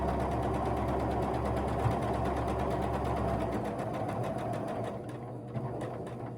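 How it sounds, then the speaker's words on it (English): A sewing machine stitches a quarter-inch seam while piecing a quilt block, giving a steady, close, rapid mechanical whir that holds evenly and eases slightly toward the end. "So I'm gonna put that in and then I'm gonna take my pin out."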